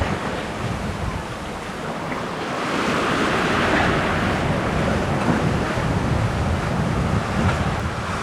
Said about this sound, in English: Not getting the big waves again, and the wind's died down a little bit again too.